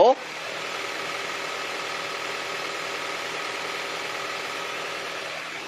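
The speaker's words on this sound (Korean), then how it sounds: "바로 엔진 소리 한번 들려드릴게요." A hybrid Honda car engine running in sport mode hums quietly and steadily, a smooth idling drone that runs evenly throughout with little variation.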